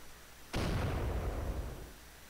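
Sudden loud airstrike blast in Shell Shock Live 2, a single sharp onset followed by a deep rumbling boom that decays over about two seconds, heard alone without talk.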